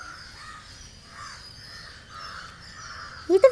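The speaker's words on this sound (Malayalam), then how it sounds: "ഇവിടെ നിന്ന കാക്കയുടെ കരച്ചിൽ." A crow caws several times in a row, the calls hoarse and moderately distant. A sharper, louder noise closes the stretch, and no one speaks.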